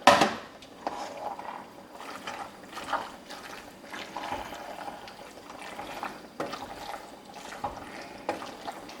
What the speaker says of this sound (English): We'll see if I can mix that up.